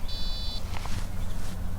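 An electronic device sounds one steady, high-pitched beep lasting about half a second, followed by low background noise and faint handling sounds.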